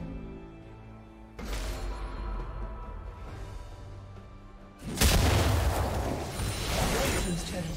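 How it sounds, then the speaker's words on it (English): A turret being destroyed in a League of Legends match: a deep boom lands, then a second, louder blast rises into a broad rumbling crash that keeps rolling to the end, over a steady game soundscape with an announcer voice. "Blue team's turret has been destroyed."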